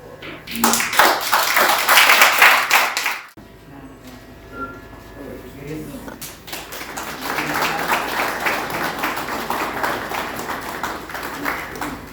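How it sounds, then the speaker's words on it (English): An audience at an adventure training academy's inauguration claps in a loud burst that stops abruptly, then a softer, sustained round of applause resumes after a short lull. "A huge round of applause"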